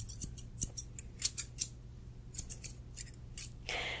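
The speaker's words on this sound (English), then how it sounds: "I'm gonna go in with this wooden scissors to get more exact" Wooden scissors snip hair at a barber shop in a quiet close-up, with a run of crisp, irregular cuts in small bursts and a softer brushing rustle at the end.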